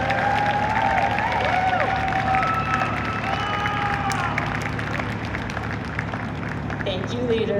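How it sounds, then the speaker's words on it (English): Crowd applause and cheering for the section leaders of the University of Akron Marching Band at a friends-and-family performance, a steady wash of clapping that fills the whole stretch, with whistles and voices mixed in. "Let's give them one more round of applause."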